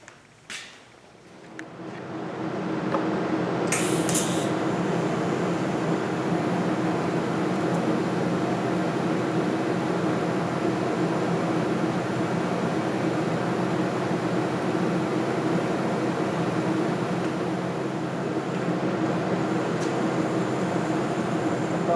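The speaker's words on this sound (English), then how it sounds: "Now I'm gonna weld that, and I'll be done." Welding on a part of an MG Midget car gives a steady, loud buzzing crackle that starts after a couple of seconds and runs unbroken for about twenty seconds, with no talk.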